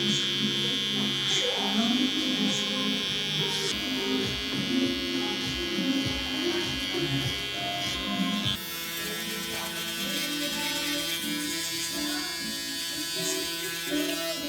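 Mini hair clippers buzz steadily against the neck while cutting a short fade, a close, continuous electric whine with slight shifts in pitch as the blade moves, changing tone partway through.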